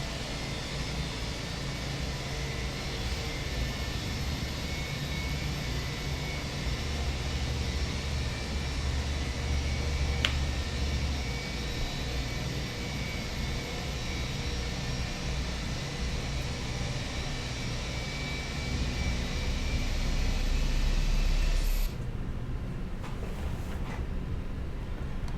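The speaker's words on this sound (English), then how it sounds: "we do already have ignition, the engine is coming up" Airbus A321 engine spooling up during start in a flight simulator game, a steady broadband roar with a layered whine that holds loud and constant before abruptly cutting off near the end.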